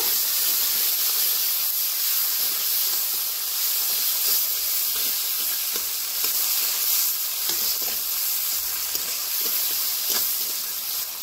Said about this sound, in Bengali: পেঁয়াজ কুচি একটু ভালো করে নাড়াচাড়া করে ভেজে নেব।